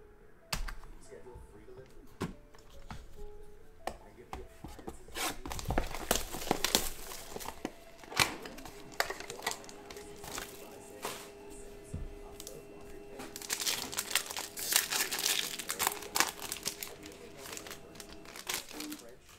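Panini Donruss Optic basketball card packs are torn open, with crinkling foil wrappers and sharp ripping bursts, close and moderately loud, while a person talks over them.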